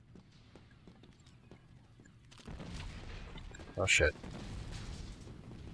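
Grenade explosion in Star Wars: Battlefront 2 (2005), a short sharp blast over rattling battle noise and distant gunfire, with a person speaking nearby.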